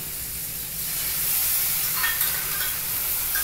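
Pointed gourd dolma gravy made with coconut milk, cashews and raisins, being stirred and fried in a pan, with a continuous close sizzle and light scraping stirs, with no voices.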